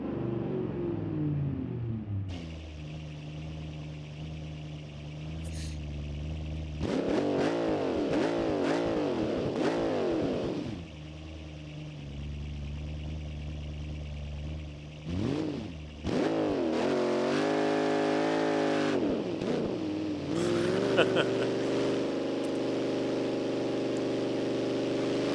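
Car engine with transmission whine in BeamNG.Drive, a drag-prep build revving up and down in repeated pulls, rising whine tones sweeping over the engine note, close and clear with no talk.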